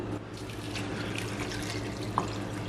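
Coconut milk, a mix of first and second pressings, pours into a pan for a curry, giving a soft, steady liquid trickle with a small splash near the end. It stays fairly quiet and close, with no talking.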